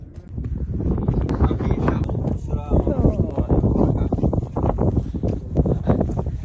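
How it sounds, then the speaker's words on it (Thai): Strong winter wind blowing outdoors near the Sahabi Tree, gusting and buffeting the microphone in loud, rumbling surges throughout, with a voice faintly audible in the middle. "ลมก็จะแรงๆนะครับ เพราะว่าเป็นช่วงวินเทอร์อากาศหนาว"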